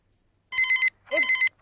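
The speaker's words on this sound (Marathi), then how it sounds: "एक फोन वाजतो, मी घेऊ?" A telephone rings in two bursts, each an electronic trilling ring lasting about a third of a second, loud and close in a quiet indoor room, with a third ring starting at the end.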